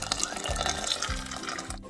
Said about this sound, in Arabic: بسم الله، الماء سخون.